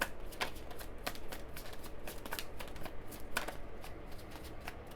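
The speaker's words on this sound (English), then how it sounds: "Let me get one more card for this tower." Tarot cards are shuffled in continuous quick riffling flutters, close and steady throughout, with sharp papery snaps repeating in an uneven rhythm.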